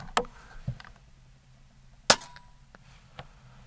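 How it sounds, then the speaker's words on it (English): Shots from an Air Venturi Avenger .22 air rifle with a wood stock: a few sharp, short cracks spaced apart, clear against a quiet background. "there was a change in the report of the rifle"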